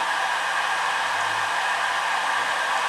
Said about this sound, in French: le ventilateur fait un petit peu de bruit